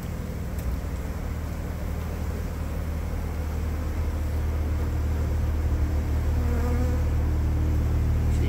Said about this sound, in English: look at all the bees coming to my hive, though, already attracted to it